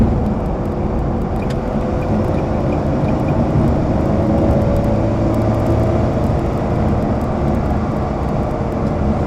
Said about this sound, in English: Come on, little Fiat, we're on the motorway.